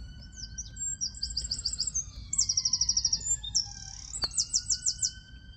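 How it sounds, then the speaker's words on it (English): Robins sing in a graveyard, the nearest one close and loud with repeated trilled phrases, while a siren wails faintly in the background. "Sirens and robins."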